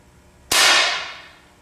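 A single BB pellet fired from two feet into a ballistic pendulum, giving one sharp, loud, bright crack that rings briefly and decays over about a second, with no talking.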